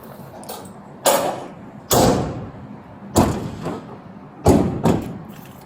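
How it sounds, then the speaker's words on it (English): A series of solid thumps and bangs from doors, four or five distinct hits spaced about a second apart, some doubled, heard against quiet background. "He's gonna shut the door."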